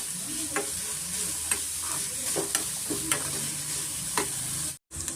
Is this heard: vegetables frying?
yes